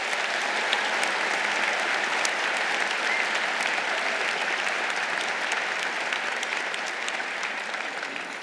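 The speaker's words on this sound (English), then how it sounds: "Let's give them another round of applause." Audience applause at a University of Michigan honors convocation comes as sustained, even clapping from a large crowd that tapers slightly toward the end.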